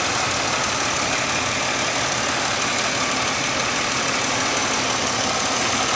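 A 2002 Buick Regal LS engine idles steadily, a close, even mechanical hum with a faint rhythmic tick running alone for several seconds without any talk.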